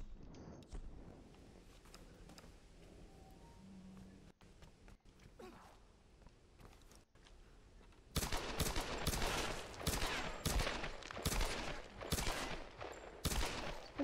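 Pistol gunfire in the Tomb Raider video game, a few sparse cracks early, then a long stretch of rapid, loud shots layered over game sound effects.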